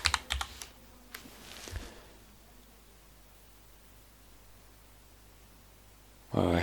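Brief bursts of typing on a computer keyboard sound up close, a quick clatter of keys at the start and again near two seconds, then quiet hiss until a loud noise at the end.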